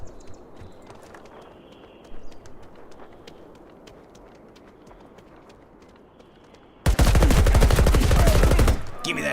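Loud, close burst of rapid automatic gunfire in the survival shooter The Day Before, erupting suddenly after a quiet stretch of faint ambience and distant pops, then cutting off abruptly.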